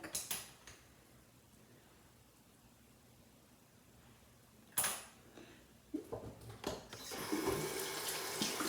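A bathroom tap runs, briefly rinsing a fingertip while makeup is applied, with a soft steady water hiss that rises into a louder splashing stream toward the end.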